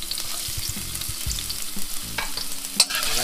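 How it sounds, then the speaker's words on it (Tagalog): Ginger sautéing in a pan for papaitan, a close, steady sizzle broken by repeated scraping and stirring knocks from a utensil, with a sharper clatter near the end and no voices. "So umpisahan ko na po ang pagigisa."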